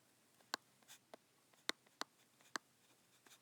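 A pen taps and scratches on paper in short, separate strokes, quiet and close, with small pauses between marks and no voice.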